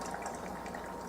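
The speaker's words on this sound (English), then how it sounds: "So I'm going to turn the tap water on at a slow flow." Tap water running at a slow flow through a Kangen water machine, a soft continuous trickling and splashing, close and fairly quiet, with no talk.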